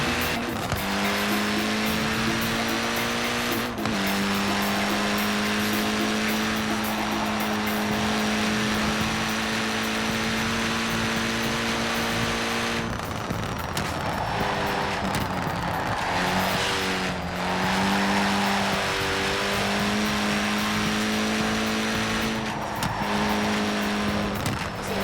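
A Mini Cooper S drives hard in Forza Horizon 4, its engine droning close and loud through repeated gear changes and revs, with tire squeal in places and no speech.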